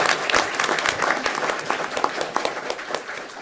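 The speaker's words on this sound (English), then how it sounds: "Let's clap for the Kiwanis Club." An audience at a Hardin County school board meeting applauds members of the Kiwanis Club, with dense, sustained clapping from a crowd at moderate loudness.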